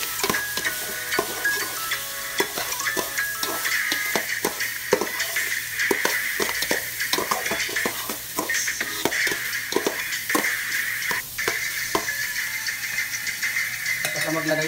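A chicken pastel mixture being stirred in a pan, with a continuous sizzle and frequent scraping clatter of the spoon against the pan, close up, and a voice speaking over it.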